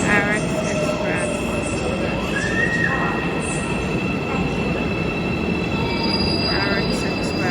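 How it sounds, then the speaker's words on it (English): An Arex Express airport train sits at a station platform between Incheon airport and Seoul, giving a steady loud rumble with high squealing wheel tones and brief electronic chimes. "That's the orange train."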